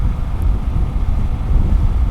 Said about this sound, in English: that gust of wind is blowing now from my left over towards my chest here